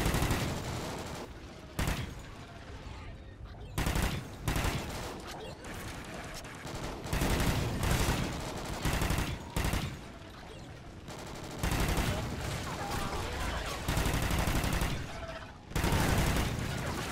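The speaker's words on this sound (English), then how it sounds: "What I try and do is hip fire this gun" Hip-fired gunfire in Call of Duty Ghosts Extinction, loud bursts of rapid automatic shots repeating in clusters with brief gaps between, dominating the mix.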